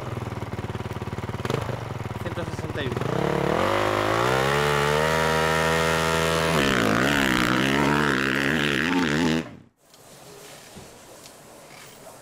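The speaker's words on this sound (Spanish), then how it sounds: "Esta es la moto de Augusto" An MXGP motocross motorcycle engine revs hard and close, its pitch rising and wavering for several seconds before it cuts off abruptly into quiet background.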